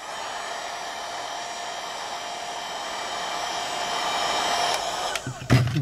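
Hot air blower heating plastic for bending while building a fish measuring board, a steady close whooshing hum that swells slightly before some knocks and handling noises at the end.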